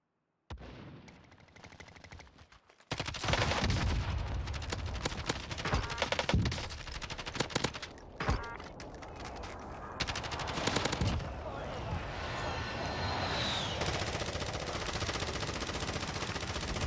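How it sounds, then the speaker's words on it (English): Dense automatic gunfire and rapid shots in the Warzone battle royale video game, loud and continuous after a brief quieter start, with a player shouting over the fire. "I'm taking fire!"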